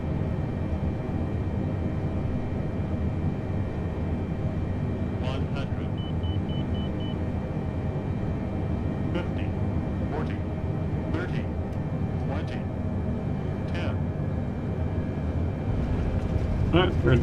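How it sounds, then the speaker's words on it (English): Airliner touching down in Microsoft Flight Simulator with thrust reversers deployed: a steady, loud broadband roar throughout, with a few faint beeps and ticks on top. "Alright, we're down on the ground. Reversers are out."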